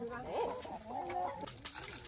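Hens on a farm near Florence, Italy, including the Massese breed, clucking and murmuring close by in a short burst of rising and falling calls over an outdoor background.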